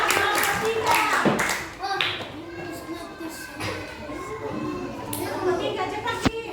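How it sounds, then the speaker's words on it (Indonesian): Children applaud together in a classroom after a group presentation, a dense burst of hand clapping that swells and fades over several seconds, with a few sharp louder claps and young voices mixed in. "Oke, tepuk tangan untuk kelompok 3."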